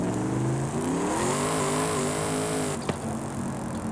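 A 1997 Mitsubishi Montero, rally-styled with a rear-wheel-drive build, drives in Forza Horizon 5; its engine drones steadily and rises in pitch as it revs up, with a brief shift-like dip near the end.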